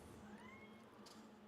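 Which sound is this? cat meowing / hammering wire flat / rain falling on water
cat meowing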